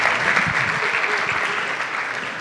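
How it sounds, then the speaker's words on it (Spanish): A church audience bursts into loud, dense applause that carries on steadily and fades slightly toward the end, with some voices mixed into the clapping. "Dense un aplauso entre ustedes."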